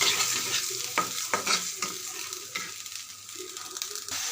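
Dried shrimp and potato bhuna fries in a pan while being stirred, with repeated spatula scrapes and clinks over a continuous close sizzle that eases slightly midway.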